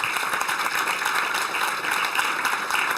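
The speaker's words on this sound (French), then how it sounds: "Vos applaudissements pour Pierre Fillon, s'il vous plaît." Audience applause at a presentation for the 24 Hours of Le Mans endurance race organiser, a dense, even patter of clapping held at moderate level for the whole stretch.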